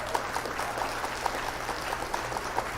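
A host fires off a canned applause sound effect during a live morning news show, a steady patter of clapping from a recorded crowd running continuously at moderate level for a few seconds.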